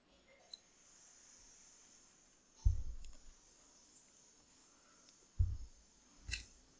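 Scissors snipping crochet yarn, two soft low thuds a few seconds apart followed by a faint click, in an otherwise quiet room.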